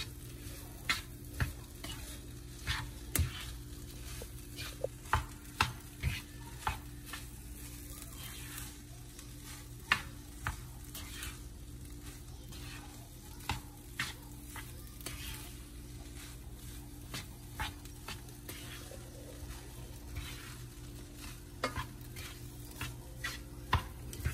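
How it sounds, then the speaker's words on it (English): Pineapple fried rice is stirred and tossed in a pan, a steady sizzle under regular scraping clicks of the utensil, close and continuous with no talk. "So now I'm just gonna continue mixing it together for a little bit of time."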